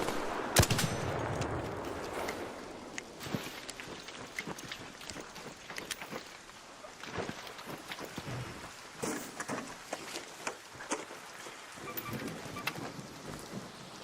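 Scattered gunshots ring out in a video game as faint, sharp cracks and short bursts over a steady hiss like rain, irregularly spaced and fairly distant.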